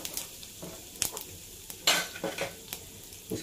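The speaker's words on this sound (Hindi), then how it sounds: "तो ऑयल गर्म हो चुका है, अब इसमें हम ऐड करेंगे जीरा 1 टीस्पून" Cumin seeds and asafoetida crackle and sizzle in hot oil in a pan for a vegetable handi, with close, scattered bursts of spitting and a few stirring scrapes, no talking.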